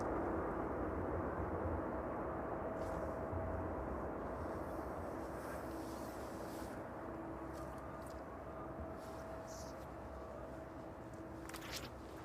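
An airliner arriving from Lanzarote on final approach at East Midlands Airport in the evening gives a faint, distant, steady jet roar that holds evenly throughout.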